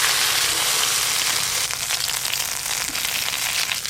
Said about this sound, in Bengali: মান কচু বাটা রান্নার জন্য কালো জিরে ফোড়ন করে নেব। এবার বেটে রাখা এটা পুরোটাই দিয়ে দেব।